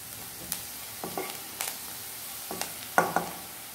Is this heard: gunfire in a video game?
no